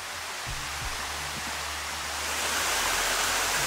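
A small waterfall in the Bosnian countryside gives a steady, soft broadband rush of falling water, with faint low knocks and thumps nearby, swelling slightly toward the end.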